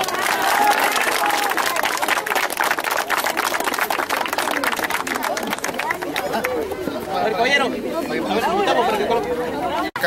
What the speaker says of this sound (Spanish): A ver, el aplauso